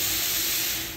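Steam released from a haleem warming machine: a loud continuous hiss with a faint mechanical rattle underneath, close and steady, tapering slightly at the end.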